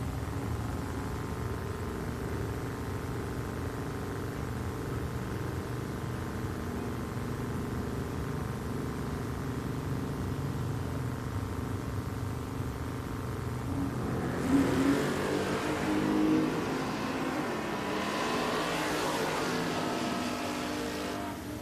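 Drag racing cars, a 1980 Malibu and a Chevy 2, roar at Richmond Dragway, a sustained loud engine drone with revving that swells and shifts as they launch and run down the strip.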